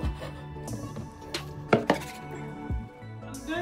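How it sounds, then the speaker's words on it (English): Beef offals (matumbo, tripe) being chopped with a knife on a board, a run of close, uneven chops with two sharper hits near the middle, alone without talk. "I'm chopping my offals, matumbo"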